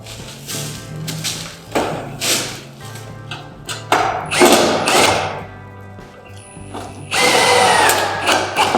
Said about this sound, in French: Et donc on visse à la jonction des deux plaques.